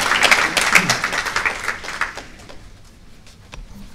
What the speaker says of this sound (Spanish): Vamos a recibir, por favor, con fuertes aplausos al doctor Jairo Parra Quijano